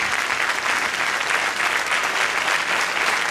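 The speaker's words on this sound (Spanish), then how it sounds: "Un forte aplauso primeiro para él." An audience at a charity gala gives Carlos Núñez a dense, steady round of applause that holds at full strength from start to finish, with no voices rising above it.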